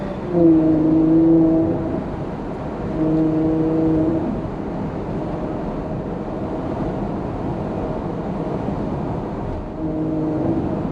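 A Ferrari 812 GTS with a naturally aspirated V12 driving at moderate speed, a steady deep engine drone with harmonic swells as it pulls, heard from inside the car, loud and continuous with no talking.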